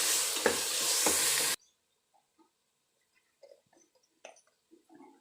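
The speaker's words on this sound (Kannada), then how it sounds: "ಪೇಸ್ಟು ಆಯಿಲ್ ಸಪ್ರೇಟ್ ಆಗೋ ತನಕ ಸ್ವಲ್ಪ ಎಣ್ಣೆಲ್ಲೇ ಫ್ರೈ ಮಾಡ್ಕೋಬೇಕು" Onion paste frying in oil for a soybean veg biryani gives a loud, dense sizzle for about a second and a half, then cuts abruptly to near quiet with faint scattered clicks and taps.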